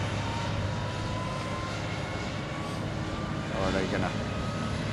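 Airbus A350 airliner taxiing at the Farnborough airshow, a steady broad engine roar held at moderate distance throughout, with people talking over it.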